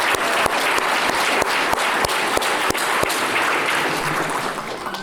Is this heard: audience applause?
yes